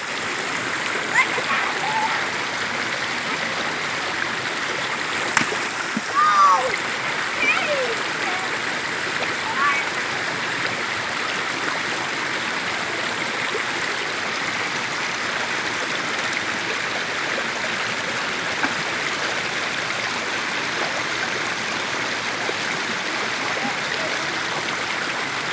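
Rainwater runoff stream rushing down through a property in Arkansas after heavy rain, a steady close gurgling and splashing flow that continues unbroken throughout.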